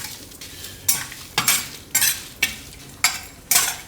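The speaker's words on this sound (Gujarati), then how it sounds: "બીજા વાસણમાં આપણે કાઢી લઈએ એટલે જલ્દી ઠંડુ થઈ જાય." Cooked green beans being scooped out of a pan into another vessel, a series of about seven sharp metallic scrapes at a steady pace over a faint background hiss.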